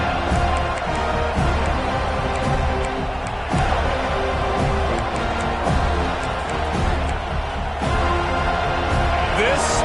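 A large stadium crowd in the College Football 25 video game roars in a dense, steady wash of cheering and noise, sustained throughout with faint rises, while a commentator's voice speaks over it.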